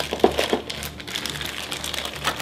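A plastic bag holding board-game miniatures and markers is torn open close by, giving sharp crinkling bursts followed by continued softer rustling of the plastic.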